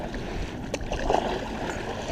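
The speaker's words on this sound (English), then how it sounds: "I'm gonna race this paddleboard" A paddleboard glides across water on a summer evening, giving soft, continuous splashing and sloshing from a paddle with faint wind, steady and fairly close, with no speech.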